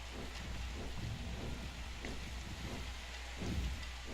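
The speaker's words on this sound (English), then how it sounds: "It is raining really hard right now." Heavy rain in a storm in the game Our Darker Purpose, a dense, steady hiss that fills the whole stretch with soft low rumbles underneath and no voices.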